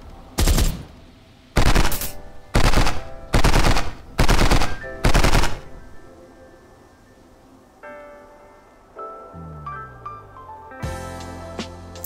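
Six loud, evenly spaced bursts of weapon fire in an indie multiplayer first-person shooter, each a short crackling volley, followed by quieter mechanical reload clicks and tonal game effects, with one final burst at the end.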